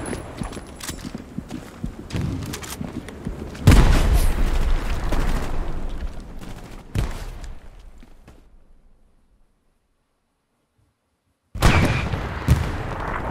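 A tank fires in a video game with heavy booming blasts and rumbling explosions among clattering battle noise, then a few seconds of near silence before another loud burst.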